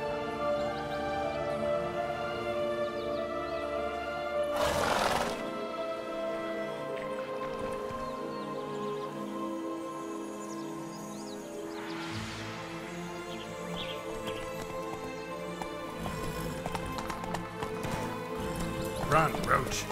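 The horse Roach gallops in The Witcher 3, steady hoofbeats thudding throughout with a rhythmic clip-clop, a voice calling out briefly over the continuous game music and ambience.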